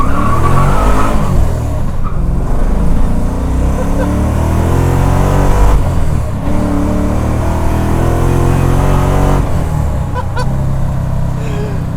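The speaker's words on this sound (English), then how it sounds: "This engine sound from this specific car is hilarious to me." Nissan 240SX with a swapped LS1 V8 revving loudly and steadily, with sustained harmonic engine drone and pitch swings throughout, no voices.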